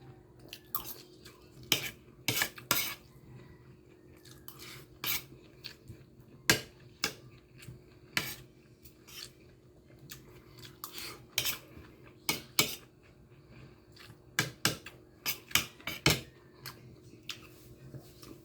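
Metal utensils clattering and scraping against a pan while cooking bibimbap, sharp irregular clanks and taps in quick clusters over a quiet background.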